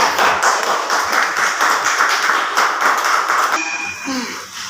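Audience clapping to welcome a speaker at an event, a dense continuous patter of many hands that fades out near the end.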